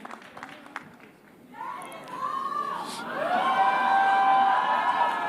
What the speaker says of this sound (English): So a big round of applause, ladies and gentlemen, for Yash.